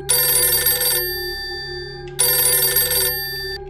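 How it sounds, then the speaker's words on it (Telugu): A telephone rings twice in loud, bright electronic bursts about a second long, separated by a short pause, close by with no voices. "అంతలో వాళ్లకి ఒక ఫోన్ వస్తుంది."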